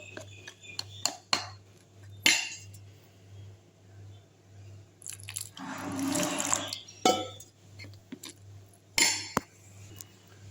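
Spoon clinking and scraping in a bowl while mixing a thick, lump-free masala paste for bread toast, heard as scattered close metallic taps with a longer wet stirring stretch in the middle, over a low steady hum.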